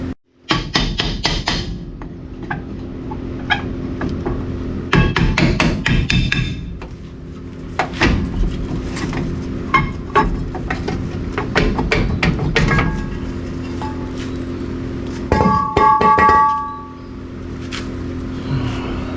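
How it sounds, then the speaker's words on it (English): Repeated metallic hammer blows on a truck ring out in irregular bursts, close and loud, with short pauses and an engine-like hum underneath. "We're gonna have to get a hammer."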